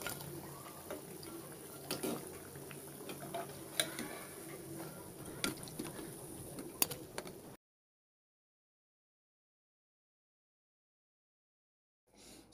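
Brinjal fritters (beguni) deep frying in hot oil, a steady crackling sizzle with scattered sharp pops, heard alone for several seconds before cutting to near silence.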